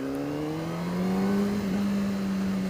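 A 2003 Honda CBR 600RR motorcycle accelerates, its engine tone climbing steadily and loudly as the revs rise, then holding at a high whine, with no voices.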